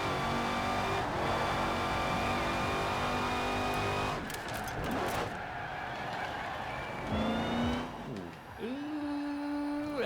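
Engine of a Daytona car in a racing video game, a steady droning whine that climbs in pitch, drops as gears shift, then rises again, with a short scrape and a couple of tire squeals near the end.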